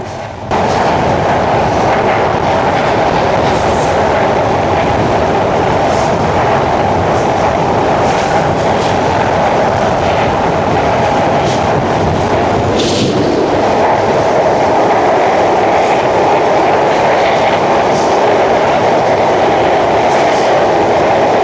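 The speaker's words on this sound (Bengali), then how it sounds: "অনেক স্পিডে কিন্তু চলছে ট্রেন" A train speeds across the Padma Bridge, its loud steady rumble and rhythmic clatter of wheels on rails continuing without a break, with wind rushing past the whole time.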